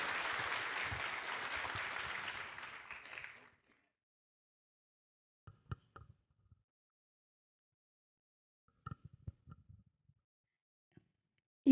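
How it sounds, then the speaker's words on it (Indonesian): An audience at an Indonesian scholarship ceremony applauds the Finance Minister, a dense burst of clapping for about three seconds that fades out, followed by near silence with a few scattered faint knocks. "Tepuk tangan buat Ibu Menteri."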